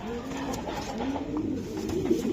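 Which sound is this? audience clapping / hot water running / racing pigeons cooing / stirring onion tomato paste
racing pigeons cooing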